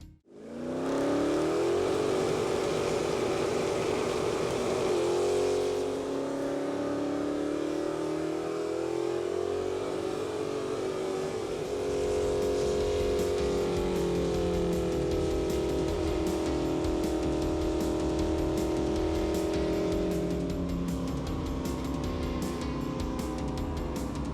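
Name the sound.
hot rod car engine running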